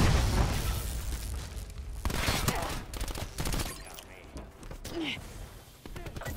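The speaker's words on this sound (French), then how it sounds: "Grenade à dispersion lancée." Grenade blasts and bursts of gunfire in a Black Ops 4 multiplayer match, with dense overlapping booms and rapid shots throughout, plus brief in-game voice callouts.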